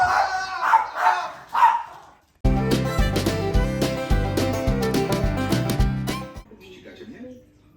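A dog barks in a domestic comedy sketch about a couple at home, loud sharp barks over lively music following a few seconds of close speech.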